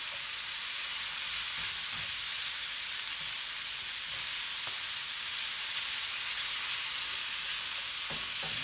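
Bacon frying in a pan for pinto beans with bacon and franks (frijoles charros), giving a steady, fairly soft sizzle and hiss that runs unbroken with a few faint pops and no voices.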